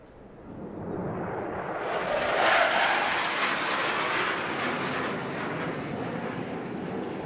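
An RAF Typhoon fighter jet at an air display sweeps in fast and low, a loud jet roar swelling to a peak around mid-pass and then holding as a broad, rumbling wash of engine noise without any voices.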